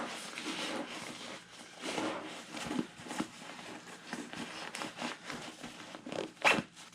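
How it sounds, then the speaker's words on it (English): Small zip pocket being zipped closed, close-up rasping zipper strokes mixed with fabric rustling and stuffing, fairly quiet with no speech. "Zip it away."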